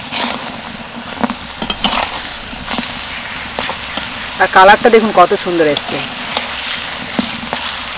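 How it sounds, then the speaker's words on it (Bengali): Green banana fritters fry in oil with a busy, continuous sizzle, broken by scraping stirs and turning. Someone talks over the frying. "কাঁচকলার এই ফুলুরিগুলো ভাজতে কিন্তু বেশি সময় লাগে না"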